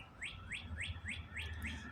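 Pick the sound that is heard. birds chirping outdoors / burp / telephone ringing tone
birds chirping outdoors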